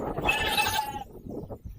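Sheep rams bleat on a farm, one wavering, nasal bleat lasting about a second at moderate distance, followed by quieter rustling and background sound.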